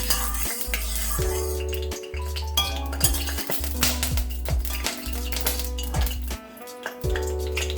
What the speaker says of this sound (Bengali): তেলটা আমি চারিদিকে লাগিয়ে নেব।